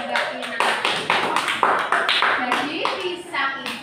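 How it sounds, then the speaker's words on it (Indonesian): Classroom applause for two students who answered during a lesson on making oralit with banana, a few seconds of scattered, uneven clapping from a class, with voices mixed in. "Tepuk tangan untuk Mas Febri dan Mbak Tina"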